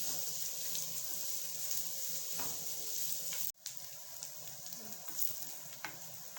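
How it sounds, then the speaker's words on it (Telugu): Onions and garlic fry in a pan for fish curry, a steady close sizzle and crackle with occasional stirring scrapes, briefly cutting out midway before resuming. "ఆనియన్స్ బాగా ఫ్రై అవ్వాలి."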